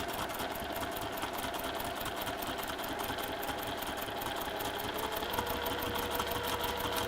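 A sewing machine runs steadily along a line on a quilt block, giving a fast, even mechanical whir and rhythmic needle chatter close by with no voices.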